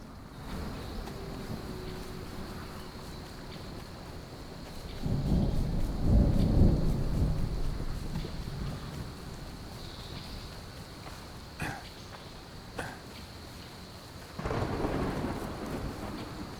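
Rain falls steadily in the game Smalland: Survive the Wilds while thunder rolls twice in long low rumbles, with a few sharp crackles between them.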